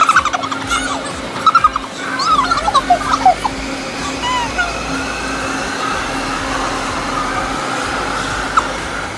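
A metro train ride on the way to a museum, with a steady rumble and rising squeals from wheels on the rails throughout, plus scattered faint clatter and brief voices near the start.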